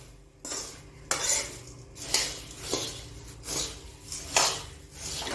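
A spoon scrapes and stirs bhadang puffed rice snack in a hot kadhai, about six rhythmic rattling sweeps of dry puffed rice against the metal pan, close and fairly loud.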